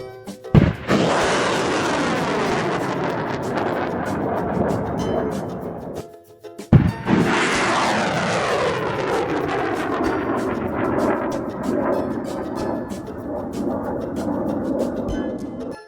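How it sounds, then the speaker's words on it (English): A rocket launch roars out in two loud ignition bursts, each swelling into a long, sustained rushing thunder close by, with no voices over it. "Rocket,"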